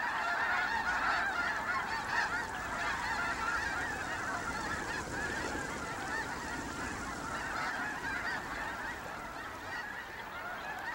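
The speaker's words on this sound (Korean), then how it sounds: "흰 기러기 떼가 번식 시기에 맞춰 북극권에 도달하려면 시간이 빠듯합니다." A large flock of snow geese on spring migration toward the Arctic, honking continuously in a dense, overlapping chorus that stays loud and steady throughout, with no speech.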